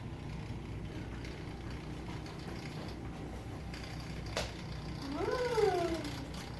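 A small Pip cotton candy machine from a 99 cents store heats up and runs with a faint, steady mechanical hum and light rattle; a rising, whining tone swells near the end.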